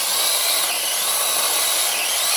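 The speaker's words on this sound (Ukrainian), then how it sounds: "Щось прокрав слабенько ріже." A Procraft mini saw cuts with a harsh, continuous high-pitched buzzing whine, loud and close, steady for the whole short stretch.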